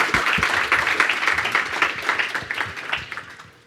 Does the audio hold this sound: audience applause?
yes